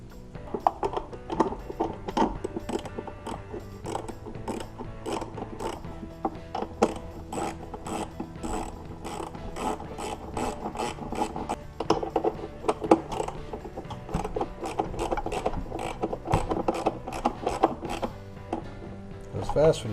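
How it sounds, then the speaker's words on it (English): A ratchet clicks rapidly and steadily, turning a bolt during a timing belt replacement on a Toyota/Lexus V6 engine, with close metallic ticks that keep going almost without pause. "Goes fast when you can actually get a swing on the ratchet."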